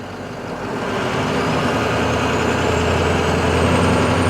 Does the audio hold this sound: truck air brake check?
yes